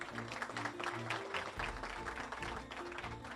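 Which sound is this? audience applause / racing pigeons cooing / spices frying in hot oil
audience applause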